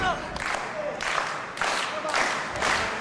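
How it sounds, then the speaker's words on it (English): Wrestling crowd at an indie match applauding and cheering in swelling bursts, a steady crowd roar rising and falling roughly every half second to second, moderately loud throughout. "Crowd getting behind Skayde."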